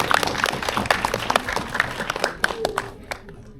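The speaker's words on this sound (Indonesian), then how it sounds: "Boleh kita berikan tepuk tangan dong buat Aisyah." Scattered clapping from a small audience, brisk at first and then thinning out to a few last claps before fading.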